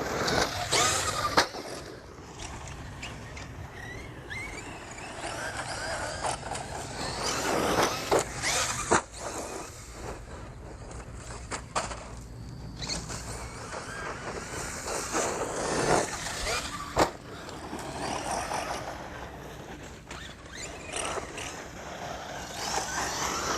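A Thunder Tiger MT4 G3 1/8 scale RC monster truck drives and revs for a steady stretch, its motor whining and rising in bursts with gritty tire and chassis noise, fairly close and with no talking.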